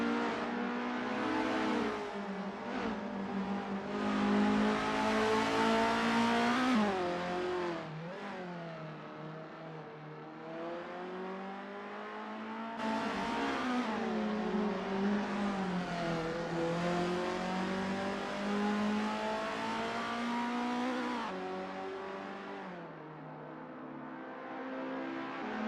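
An Isuzu Bellett GTR racing engine in Assetto Corsa revs hard through the gears, its pitch climbing and dropping with each shift, a steady loud drone with gear changes and no talk.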